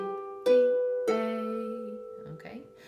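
Harp plucking a short phrase from Hunter's Chorus, two clear struck notes ringing out and sustaining, followed by softer plucked notes near the end.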